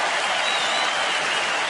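A packed stadium crowd at a US Open tennis quarterfinal applauds in a continuous, dense wash of clapping that holds steady and loud throughout.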